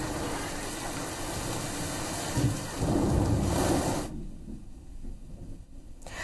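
Heavy rain driven by strong winds hisses steadily in Jabalpur, with a low rumble swelling midway. The downpour then drops to a quieter patter.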